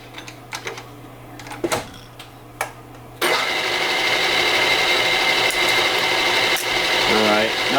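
Aluminum parts spin on a metal lathe at higher speed, around 1115 rpm. The machine starts abruptly and keeps up a loud, steady whirring drone with a faint rhythmic chatter. Before that come a few clicks and a low hum.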